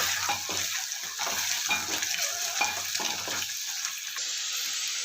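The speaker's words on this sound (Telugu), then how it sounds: "ఉడకబెట్టి ఘాట్లు పెట్టుకున్న ఎగ్స్ వేసేస్తున్నాను. లైట్గా వేగితే చాలండి." Scored, pre-boiled eggs fry in a pan, a steady close sizzle with rhythmic scraping as they are stirred and turned, the stirring stopping near the end while the hiss continues.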